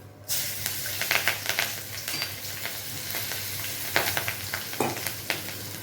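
Nigella seeds and slit green chillies frying in hot mustard oil give a steady close sizzle, with crackling pops and occasional stirring scrapes throughout, no voices.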